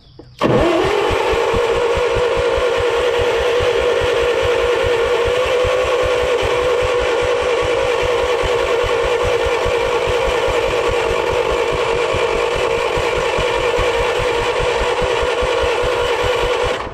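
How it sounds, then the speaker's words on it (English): An old Bobcat skid steer engine cranks over continuously on the starter, a loud, rapid, rhythmic chugging with a whining drone that never catches and runs steadily for the whole stretch. "I'm gonna start cranking on this thing and hopefully we can get this fuel pump primed up"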